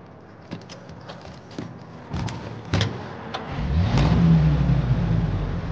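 A car in Mafia Definitive Edition starts off with a few clicks and knocks, then its engine rises into a steady, revving acceleration, close and fairly loud.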